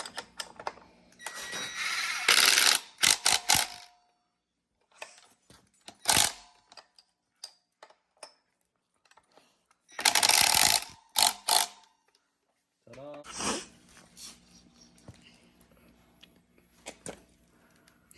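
A 14 wrench ratcheting on a bike during maintenance, with bursts of rapid clicking pawl sounds separated by pauses and a few single clicks, close and clear with no talk.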